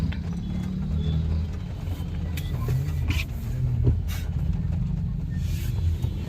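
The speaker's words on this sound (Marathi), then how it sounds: "इथं पण ट्रॅफिकच. चला निघलो तिथून निश्चित ट्रॅफिक एकदा बघा ट्रॅफिक तुम्हाला दाखवतो." Heavy road traffic on the route from Kalyan to Pune, near Pune: a steady, loud, low rumble of car and truck engines close by, continuous throughout, with no voices.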